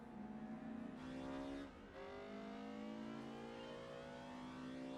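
A Honda NSX race car in Gran Turismo 4 takes off with a loud engine roar that climbs through the revs, dips briefly at a gear change, then pulls again; no voices.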